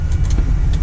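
Small 2.8-liter V6 engine of a manual-shift pickup truck running steadily while plowing snow at a BBQ restaurant lot, a continuous low rumble throughout, close and fairly loud with no talk.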